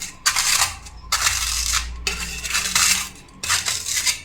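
Edible gum (gundar) crushed in small batches for black sesame kachariyu, a series of sharp crackling, clinking bursts in three main clusters, close and fairly loud, with no talking.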